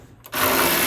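A socket wrench works bolts loose on a Mazda Miata being stripped for a Spec Miata race build, with 10, 12 and 14 mm sockets. After a brief quiet start, a close, loud burst of rapid mechanical ratcheting takes over.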